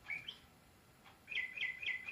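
Small birds chirp in the background, first a couple of quick tweets and then a rapid run of evenly spaced, high, fairly faint calls repeating alone over quiet room tone.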